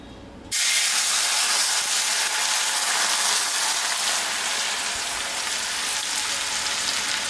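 Piping hot oil poured into a thick bowl for homemade chili oil sets off a sudden loud, bright sizzle that starts abruptly and keeps hissing steadily, fading slightly toward the end.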